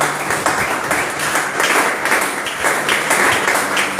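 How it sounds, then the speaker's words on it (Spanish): Steady, dense applause from a church congregation during a Spanish-language sermon on new birth in Christ, sustained and fairly loud across the whole stretch with a faint voice underneath. "Denle un aplauso al Espíritu Santo."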